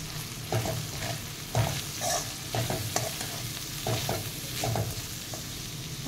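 Biryani masala and spices are stirred in a frying pan under a steady sizzle, with repeated scraping strokes of the spoon at an even rhythm.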